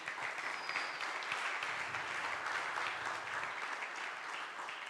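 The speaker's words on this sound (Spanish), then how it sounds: "Denle un aplauso al Señor." A church congregation applauds, a continuous wash of clapping from many people that sounds fairly distant and quiet throughout, with no speech over it.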